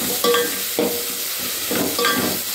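Ginger frying in a pan for egg biryani, a close sizzle broken by three or four loud scraping stirs at regular intervals, no voices.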